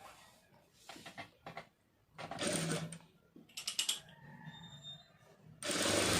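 A sewing machine stitches a blouse hem in quiet, uneven bursts of rapid mechanical clatter, with pauses and fabric handling between runs and a louder burst at the end.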